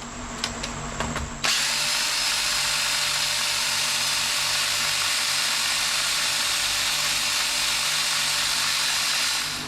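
A few mechanical clicks, then a power drill with a soft sanding pad spins up and runs continuously with a loud steady whir and rushing, sanding-like friction on yew wood.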